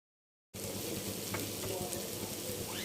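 Cabbage and onion stir-fry with shrimp sizzles steadily in a pan, a continuous crackling fry that begins abruptly after a short silence and carries on at an even level, with no voices.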